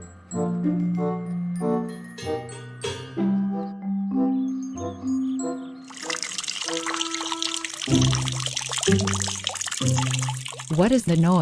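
Water gushes loudly as a child floods a cartoon kitchen, the pouring entering about halfway through and continuing under playful background music.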